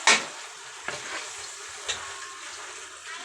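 Latik, coconut caramel for biko, stirred in a pan, giving a soft steady sizzle with a few sharp scraping strokes of the spoon, close and moderately quiet, with no talking.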